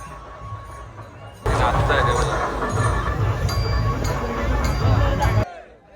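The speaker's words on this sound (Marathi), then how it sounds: "इथं गर्दी बघा, गर्दी किती आहे." A large crowd gathered at the Shivrajyabhishek coronation ceremony at Raigad fort, with steady dense hubbub and babble and occasional clinks close by. It starts suddenly and holds loud for about four seconds, then cuts off.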